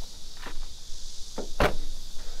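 Driver's door of a used Hyundai Sonata Brilliant opens, with a couple of soft clicks followed by one sharp latch release, close and alone.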